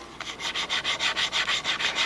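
A small homemade sanding tool rubs across wood in quick, even back-and-forth strokes, about a dozen rhythmic rasping passes, close up and moderately quiet, with no voices.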